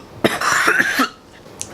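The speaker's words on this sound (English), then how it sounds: "I have to cough." A sick person coughs once in a short, harsh burst lasting about a second, close to the listener, followed by a faint trailing breath.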